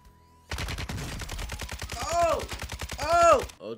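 Rapid automatic gunfire in a Warzone 2.0 gunfight, a loud close burst of evenly spaced shots lasting about three seconds, with voices talking over it.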